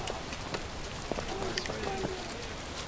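Steady rain patters across an outdoor battlefield in the War of Rights video game, a dense hiss with scattered drop ticks running throughout, heard beneath faint voices.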